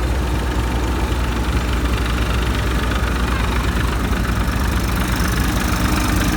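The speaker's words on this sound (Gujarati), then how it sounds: "જો આ ભાઈ અત્યારે ટ્રેક્ટર લઈને આવે છે" A tractor engine running steadily and close, a continuous low chugging rumble at constant loudness throughout, with no voices.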